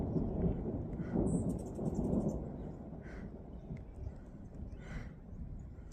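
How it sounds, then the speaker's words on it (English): Thunder rumbling during a storm on the Pacific Crest Trail, a low, continuous roll filling the clip at moderate loudness with a few faint rustles over it. "don't know if you can hear the thunder"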